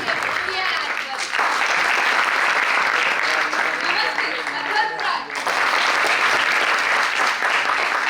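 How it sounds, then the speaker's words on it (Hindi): Audience applause at a stage event, loud continuous clapping that fills the whole stretch, briefly dipping before swelling again, with voices audible underneath. "निरंतर आपकी तालियों की गड़गड़ाहट कम नहीं होनी चाहिए।"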